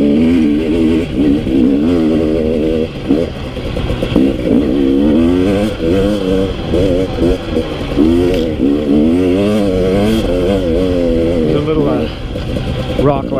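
A 2018 KTM 250 XC-W TPI two-stroke dirt bike engine revs and rises and falls in pitch in repeated surges, loud and close, with a voice talking over it.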